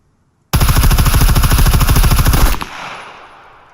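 An Mk18 rifle fired full-auto in the survival game Scum: a loud, close, rapid two-second burst of evenly spaced shots that stops abruptly, leaving a fading echo tail.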